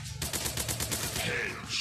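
Rapid gunfire bursts from the mobile shooter Commando War Army ring out loud and close, a steady volley of shots lasting under two seconds.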